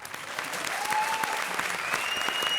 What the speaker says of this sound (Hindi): जोरदार ताली बजा तो भाई।